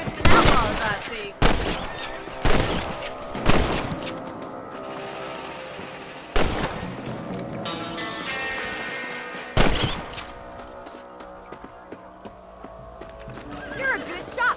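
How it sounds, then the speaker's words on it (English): Rifle shots at rabbits in the Red Dead Redemption video game: several sharp, loud gunshots spaced a second or two apart, with horse hooves and ambient game sounds between them. "You're better at shooting rabbits than outlaws, I see"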